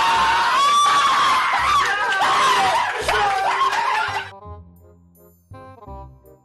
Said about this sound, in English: That scream though. Was that a double scream?